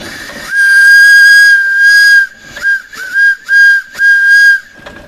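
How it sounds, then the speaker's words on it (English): Steam engine at a heritage steam day giving a loud, shrill whistle: one long blast followed by several short toots, with hissing steam between them. "I filmed a bit of some video of the steam engines that are running already"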